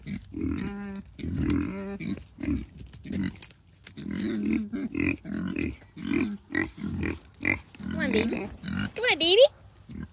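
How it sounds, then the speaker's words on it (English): Pigs walking along on a homestead hike give short, low grunts and oinks at close range, scattered among a person's frequent coaxing talk. "Such good little pigs."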